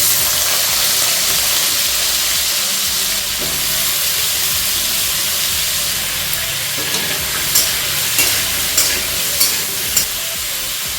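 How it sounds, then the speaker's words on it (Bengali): Potatoes dropped into hot oil seasoned with dried red chilli and nigella seeds fry with a steady, loud hiss and sizzle, and a few sharp utensil scrapes and taps from stirring come near the end. "তো এবার একটু আলুগুলো দিয়ে দেবো।"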